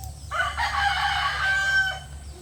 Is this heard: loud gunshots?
no